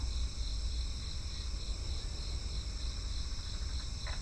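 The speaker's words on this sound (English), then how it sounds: "I hope you enjoyed the chorus of the frogs and the nature" A night chorus of frogs outdoors, a steady high-pitched pulsing trill that repeats in even rhythm, moderately loud and continuous, with no voices.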